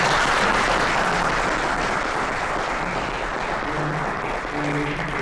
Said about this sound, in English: what we'd like to do now is first thank our panelists by show of applause